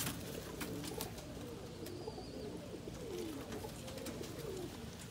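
Yellow/red reverse wing pouter pigeons coo in a low, rolling murmur, several soft calls repeating at close range over a faint background hiss.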